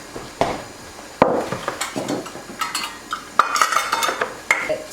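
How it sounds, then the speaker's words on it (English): Meatball mixture being stirred in a bowl with breadcrumbs, Parmesan cheese and eggs, in an old-style meatball recipe: close, uneven scraping and clinking of a utensil against the dish, with a few sharper knocks, no talking. "add the crumbs, the cheese, the eggs. It's easier to mix in."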